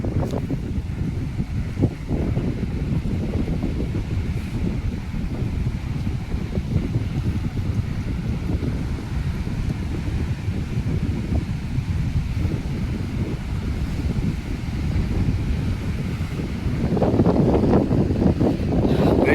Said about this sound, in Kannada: ಎಷ್ಟು ಜೋರಾಗಿ ಬರ್ತಾಯಿದೆ ನೋಡಿ